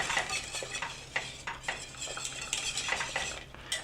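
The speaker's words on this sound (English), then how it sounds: "I'm going to use a whisk on it, just to make sure everything is thoroughly combined." Green chili soup being whisked in a pot, quick repeated metallic scraping and clinking strokes against the pot sides, close and fairly soft with no talk.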